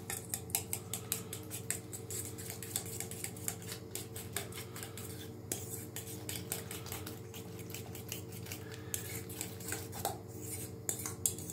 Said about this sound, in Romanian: Și amestecăm ouăle.